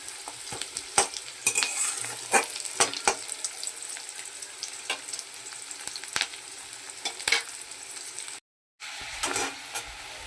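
Onions fry in a pan while a spatula stirs and scrapes in an uneven rhythm, giving close, steady sizzling broken by sharp knocks and one brief drop to silence near the end.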